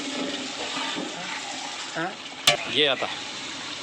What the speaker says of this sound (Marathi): आता आपण पाणी टाकतोय शिजवण्यासाठी.